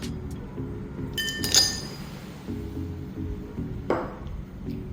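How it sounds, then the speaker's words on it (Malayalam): Ice cubes clink into a serving glass while an aloe vera and honey drink is being made, giving a few bright chinks close up, then a single later clink over quiet room noise. "എന്നിട്ട് നമ്മൾ കുറച്ച് ഐസ് ക്യൂബ് ഇടുക."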